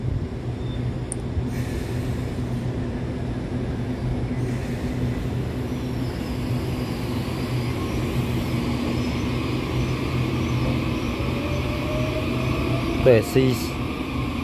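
Steady, loud rumble of the EMU809+EMU810 commuter train pulling out of Su'ao station on the Yilan line toward Beihu. A voice talks over the continuous hum, and a brief clank comes near the end.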